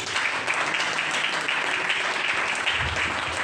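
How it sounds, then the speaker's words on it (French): A church congregation applauds during a service, a dense, loud, continuous clapping that fills the room for a few seconds. "Acclame Jésus"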